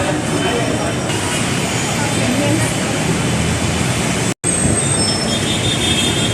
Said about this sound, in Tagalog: Papasakay tayo ng LRT.